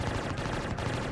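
Spaceship cannons firing in the space game Star Citizen, heard as a dense, continuous burst of rapid shots at steady loudness with no talking.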